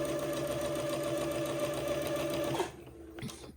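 A sewing machine runs a gathering thread through fabric for a funeral pall, a steady close whirring hum that stops abruptly near the end, followed by a faint clunk.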